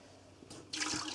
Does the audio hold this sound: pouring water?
yes